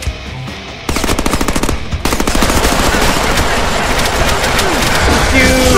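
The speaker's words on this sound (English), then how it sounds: "Especially when they're machine guns, come on." Machine gun fire in the Deadpool video game, dense rapid bursts that start after a short quieter lead-in and then roll on nearly without pause, loud and close.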